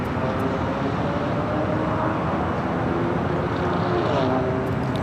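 Southwest Airlines Boeing 737-800 arriving at LAX, a steady broad jet roar held at an even loudness across several seconds, with a voice talking over it.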